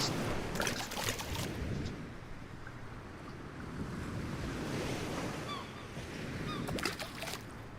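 Water laps and washes steadily beneath rocks in the Real VR Fishing video game, a continuous soft surf-like wash with a faint breezy hiss, and no talk.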